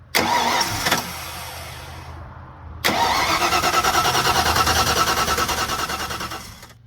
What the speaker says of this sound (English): you want to try firing it up again?